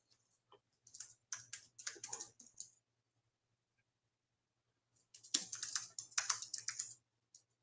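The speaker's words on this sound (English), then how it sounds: "I'm like a little woody woodpecker on my typing today." Rapid keyboard typing in two bursts, crisp clicking keystrokes close by with a quiet pause between them.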